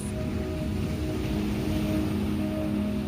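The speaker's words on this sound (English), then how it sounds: "Hear the sound of the waves." Steady ocean waves wash continuously at an even level, with a soft surf hiss and faint tonal music underneath, no pauses or voices.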